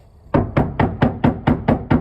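Eight quick knuckle knocks on the thin inner door panel of a Toyota Corolla Cross Hybrid, loud and close, evenly spaced in a steady rhythm with a hollow, unpadded resonance.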